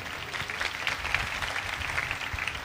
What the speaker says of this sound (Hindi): आओ इस बात के लिए तालियां बजाएं।